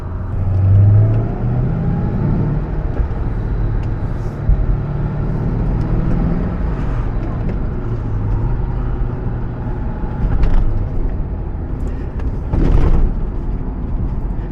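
A supercharged V8 in a 2004 Ford Mustang Cobra SVT drones steadily from inside the car while driving, a continuous engine rumble with brief swells of revving and supercharger whine, loud and steady throughout.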